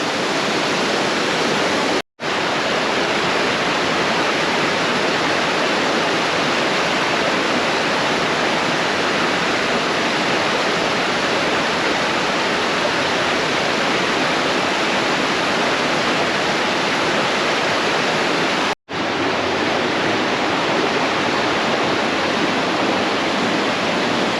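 Loud, steady rushing of water pouring through a mountain flume gorge in New Hampshire, a dense continuous roar with two brief cuts to silence and no talking.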